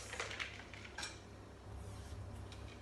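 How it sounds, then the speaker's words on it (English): A long spoon clinks against a glass of soda while stirring the lychees at the bottom: a few light, close metallic taps near the start, then quiet swirling. "So you want to take a long spoon and pop some lychees"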